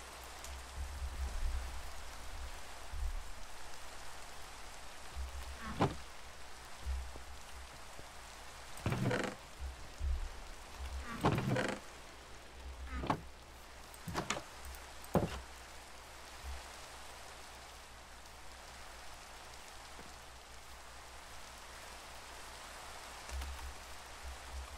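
Steady rain hisses softly in Minecraft, a faint continuous wash broken by several sharp, close knocks and thumps around the middle.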